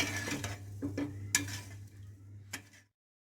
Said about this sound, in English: Keep on stirring it so that the sugar melts in it and it gives you good flavor.